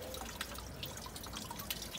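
Water trickles and drips steadily from the tap of a garden rain barrel holding some sludge, a soft continuous splashing flow with small irregular drip accents, fairly quiet and close, with no talking.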